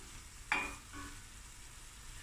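Onions frying in a pan for a mince and cauliflower curry give a brief close burst of sizzle as they are stirred, then ease into a soft, steady frying hiss.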